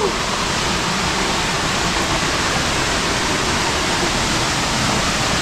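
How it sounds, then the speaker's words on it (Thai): Strongly flowing waterfall at Sakon Nakhon in Thailand, a steady dense roar of rushing water filling the scene, loud and continuous, with no voices. "น้ำไหลแรงมากๆเลยนะ"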